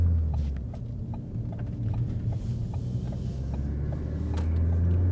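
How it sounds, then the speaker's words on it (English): A 2016 Ford Focus ST with a Cobb Stage 1 tune drives along, its engine giving a deep steady rumble close by, with light ticking and clicking sounds over the top and no talk. "The turbo is extremely loud with this Tune."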